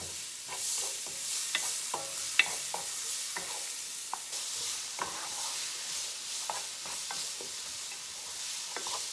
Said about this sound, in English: And now in this I'm going to add all the chopped onion, as you see.